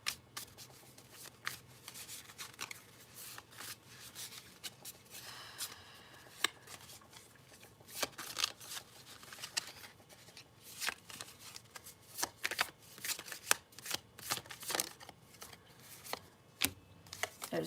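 A deck of tarot cards is shuffled by hand close to the mic, with repeated riffling and sliding bursts that come in quick, irregular runs for the whole stretch.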